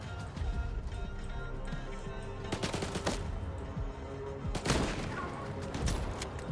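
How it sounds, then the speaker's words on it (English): Gunfire in the video game S.T.A.L.K.E.R. 2: Heart of Chornobyl, several sharp bursts and explosive blasts cutting through a busy, rumbling game soundscape, with a voice talking faintly now and then. "every shot is so expensive when I shoot bombs."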